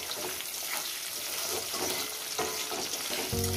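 Chopped onion frying in a pan after cumin makes a quiet, continuous sizzle with faint scraping textures throughout, with no voices.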